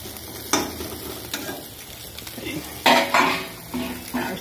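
Bitter gourd being stir-fried in a pan, with a series of close, sharp spatula scrapes and clinks against the metal in irregular bursts over a low sizzle.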